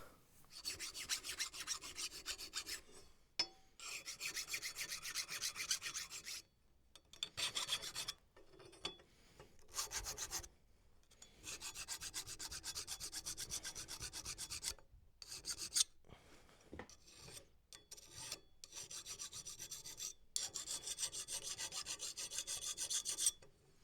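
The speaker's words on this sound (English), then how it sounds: "So now we have the file work done on the bolt itself." A hand file rasps across a wrought iron door bolt in steady back-and-forth strokes, close and clear, broken by short pauses between bursts of filing.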